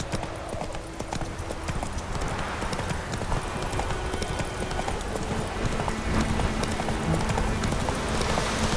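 Hooves of Roach, Geralt's horse in the video game Witcher 3, clip-clop steadily in a continuous rhythm over a rain-soaked field, with steady rainfall beneath and no talk.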